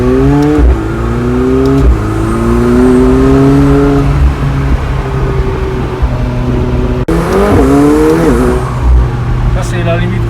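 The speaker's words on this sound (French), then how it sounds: "dès qu'elle sera bien chaude, on pourra vraiment bien l'exploiter et vous verrez le bruit qu'elle fait" McLaren 720S sports car accelerating hard: a loud, rising engine roar that climbs through gear changes, with people talking over it.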